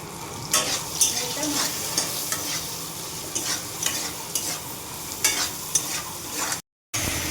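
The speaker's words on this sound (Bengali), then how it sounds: "মশলা কষানো হয়ে গেছে, আলু কাবলি মটর টমেটো সব কিছু কষানো হয়ে গেছে।" Spices fry with potatoes, chickpeas, peas and tomato while a spoon stirs the pan, repeated scraping strokes rising over a constant close sizzle.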